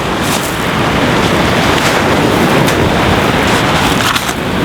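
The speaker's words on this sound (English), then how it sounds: "I've noticed the waves come in quite heavy, quite high" Heavy sea surf breaking near rocks on the North Wales coast, a loud continuous wash of waves with gusty wind buffeting the microphone, with no voices.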